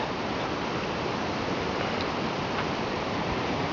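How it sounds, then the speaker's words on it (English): River rapids at Big Shoals State Park give a constant, dense rushing hiss of white water, steady and unbroken from start to finish with no voices. "you begin to hear the sounds of those rapids"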